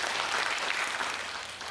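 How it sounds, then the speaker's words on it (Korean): Audience applause at a Korean humanities lecture in Jangheung fills the whole short moment, a dense, even wash of many hands clapping with no talking. "유홍준 교수님께 힘찬 박수를 부탁드립니다"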